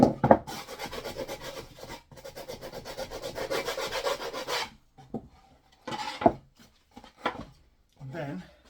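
Wooden swift nest box edges being rasped and sanded by hand, a steady, close scraping that runs for about four and a half seconds, then a few shorter rubbing strokes follow with pauses between.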